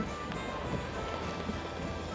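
Rain from a storm falls on an ORA Good Cat GT as it drives, a steady hiss of drops over road noise and a low cabin rumble, with occasional sharper patters.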